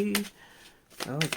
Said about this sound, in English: Okay. Last shuffle.